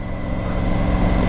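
Triumph Tiger Rally Pro 900 motorcycle, A2 version, engine running steadily while riding, a smooth continuous drone with wind rush, loud and close, no talk.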